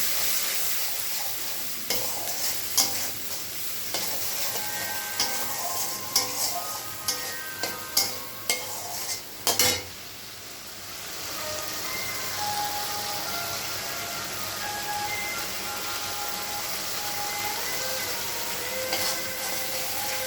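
Ginger, cumin and coriander spices frying in oil and stirred in a pan, with clusters of spatula scrapes and clicks over a steady close sizzle that settles into an even crackling hiss, with no talking.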